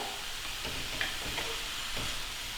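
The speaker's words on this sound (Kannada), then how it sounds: "ಇದು ಒಂದು ನಿಮಿಷ ಹೀಗೆ ಫ್ರೈ ಆಗಬೇಕು" Vegetables for a salad fry in a pan with a steady soft sizzle and hiss, faint stirring scrapes now and then, no voices.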